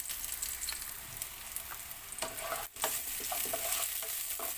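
Onions fry in a pan for Goan fish curry, giving a constant close sizzle broken by scraping stir strokes and brief utensil clicks, with no one speaking.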